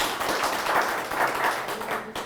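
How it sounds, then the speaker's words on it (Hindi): Brief applause from an audience for experts at a farmers' question forum in Shimla, a dense burst of clapping that swells and then trails off within a couple of seconds. "तो मैं चाहूंगी हमारे विशेषज्ञों के लिए भी ताली हो जाए।"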